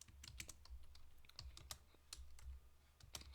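A computer keyboard is typed on steadily, with irregular close clicks and brief pauses between words, soft in level and free of speech.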